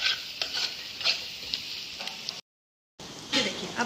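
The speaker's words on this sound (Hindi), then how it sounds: "फिर इसको मिक्स करेंगे अच्छे तरीके से" Masala fried eggs frying in oil in a pan while being stirred, with a continuous hiss of sizzling and soft scraping strokes, cut by a brief silent gap before the frying resumes.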